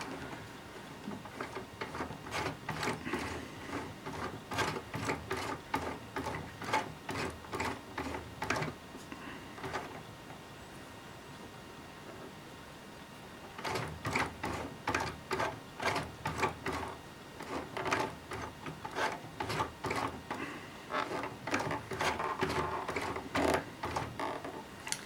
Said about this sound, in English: I'm going to turn the hand wheel and try to feed this little area right here through the cutter